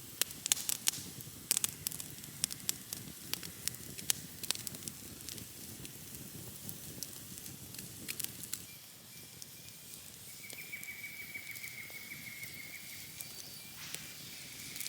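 A campfire burns while fish fillets cook over it, giving close, irregular crackles and pops with a soft low bed of flame, and a faint steady hiss appears later.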